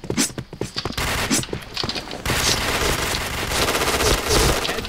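Rapid machine-gun bursts and overlapping gunfire from a multiplayer video game shooter, loud and dense throughout, with brief gaps early on before a sustained barrage.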